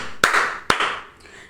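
Two sharp hand claps about half a second apart ring out close and loud during a Mahakali mantra chant, each with a brief bright ring before fading.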